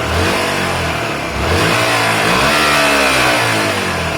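A Honda Varadero 125 motorcycle engine revs up and holds at a loud, steady roar, with a brief dip partway through before climbing again.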